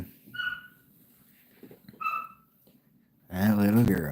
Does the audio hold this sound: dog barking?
yes